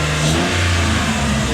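A Lexus IS300 engine, freshly fitted with a new throttle body, revs up loudly and close, its note rising and falling in quick bursts with no talk.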